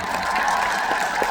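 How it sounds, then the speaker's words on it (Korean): Concert audience at a classical orchestra concert applauding for the director, a steady wash of clapping from a crowded hall. "원장님께 박수 한번 부탁드릴게요"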